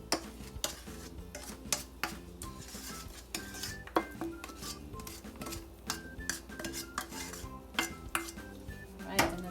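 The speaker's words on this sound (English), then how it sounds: "Quickly get it out of the pan." A metal utensil repeatedly scrapes and clanks against a pan as hot almond roca toffee is pushed out, with rhythmic scraping strokes and sharp metallic knocks at close range.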